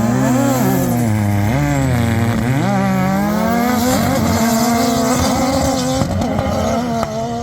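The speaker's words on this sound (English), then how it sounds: "Now we got the high boost guys running. Drag race up the hill." Yamaha YXZ side-by-sides with high boost drag race up a dune hill at St Anthony Dunes, their engines screaming loudly and revving as pitch climbs and shifts, with several machines overlapping close by.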